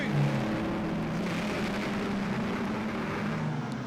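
NZ stockcars race past on the track, a steady roar of several engines at moderate distance, constant and droning with faint shifts in pitch as cars go by.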